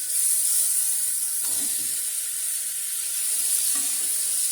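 Fried chicken gets mixed into biryani in a hot pan, a steady hissing sizzle with a couple of soft scraping stirs, close and continuous.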